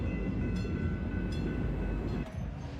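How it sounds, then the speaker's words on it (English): A train rumbles past at a steady roar with faint rhythmic clatter, close and continuous, with no talk over it. "Here's the train coming. There she goes."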